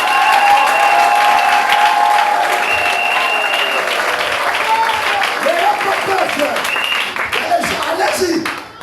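A church congregation breaks into loud, sustained applause and cheering, dense clapping from a large crowd at close range with voices mixed in, gradually easing in intensity.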